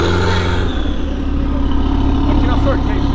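Rear-wheel-drive car held in a drift, its engine droning steadily and revving under the tires with a loud, continuous roar, while a voice talks over it.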